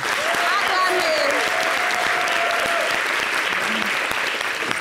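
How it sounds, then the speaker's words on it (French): A live audience on a summer television show applauds a singer with loud, continuous clapping throughout, mixed with a few shouts and whoops. "Applaudissez pour elle."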